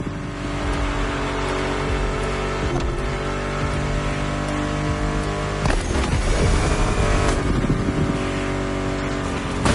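A loud, continuous Mustang GT muscle car engine in The Crew Motorfest video game roaring and revving with shifting pitch, steady and close throughout, with no talking.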